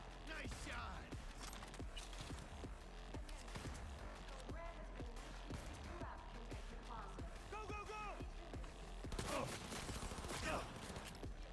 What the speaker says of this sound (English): Classic pump action, shotgun action.